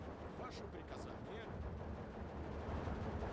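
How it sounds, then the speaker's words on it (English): Mortar rounds strike in Steel Division 2, a wartime strategy game, as a dense rumbling barrage of blasts and gunfire. Two sharper bursts rise near the start over a continuous low battlefield roar. "Mortar hit that directly."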